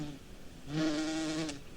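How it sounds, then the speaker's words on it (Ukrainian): A large hairy bee buzzes briefly nearby, a rising, droning hum that swells for about a second and then fades. "голосне дзижчання. Над нею кружляла велика волохата бджола."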